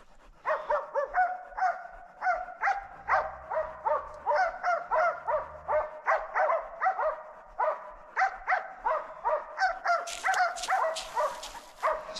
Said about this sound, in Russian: Собаки уже устали лаять.